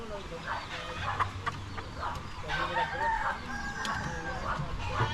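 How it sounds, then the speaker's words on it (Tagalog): Chickens, including a blind hen, cluck and squawk nearby in short irregular bursts, with people talking underneath amid outdoor farmyard noise. "Yun yung guys, yung bulag na manok."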